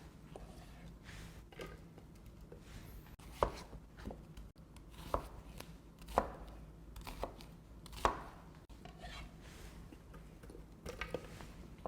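A knife roughly chops deseeded green chili peppers on a board, with a series of irregular, quiet thuds and taps, some sharper strikes standing out, close by with no talking.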